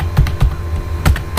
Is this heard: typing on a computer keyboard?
yes